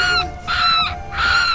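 White-breasted waterhen calling outdoors in a field at night, three loud, harsh, squealing bursts with a piercing nasal tone, repeated in an even rhythm and close to the listener.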